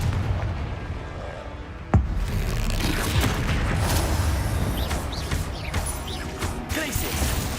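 Confringo blasting spell in Hogwarts Legacy on Xbox Series X: one sharp, close boom bursts out about two seconds in, then dense, continuous battle rumble and crackle carries on to the end.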